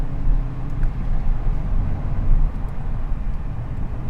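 2022 VW GTI hot hatchback engine humming in a low, steady drone from inside the cabin while driving, with a continuous rumble of road noise and no talking.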